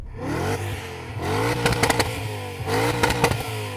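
An E39 BMW M5 engine blips its throttle in two quick bursts, rising and dropping with crackling pops, close by and fairly loud.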